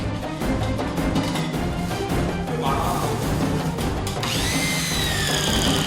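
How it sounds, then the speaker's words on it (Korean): A power drill bores holes into an artificial tree trunk so branches can be fitted, part of a rooftop garden installation; the drilling whine runs loud and continuous, rising into a higher strained pitch near the end. "먼저 나무에 가지가 들어갈 수 있도록 구멍을 뚫어줍니다."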